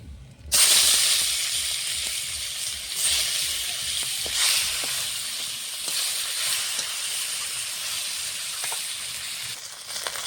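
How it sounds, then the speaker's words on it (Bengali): Catla fish heads fry in hot oil for a Bengali curry, producing a continuous loud hissing sizzle that flares up right at the start and holds steady to the end, with no voices. "মাছ ভাজা হয়ে গেছে, মুড়োগুলো ভেজে নেব।"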